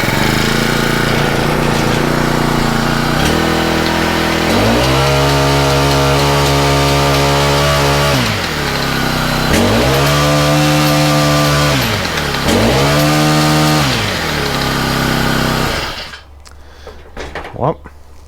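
Gas engine on a concrete shaker fired up after a pull start, a loud continuous clattering drone that revs up and down in several surges before cutting off abruptly near the end.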